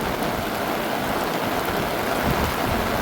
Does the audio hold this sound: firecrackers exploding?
no